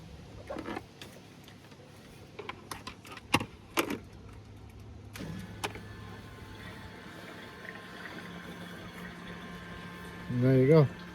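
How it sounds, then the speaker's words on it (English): Water is pumped into a van's water tank, a steady low running hum with scattered knocks and clunks, ending in a louder gurgling rush; a person speaks over it. "what we're doing is pumping water into there and we're filling that tank there"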